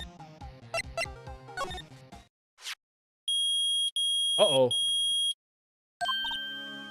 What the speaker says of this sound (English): The metal detector's found something. Sure is loud enough about it.